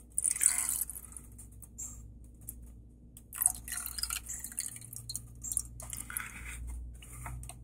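Air bubbles gurgling out of a BMW 328i E39 coolant system as it is bled after a water pump and thermostat replacement, heard as wet drips, squishes and irregular bubbling pops up close.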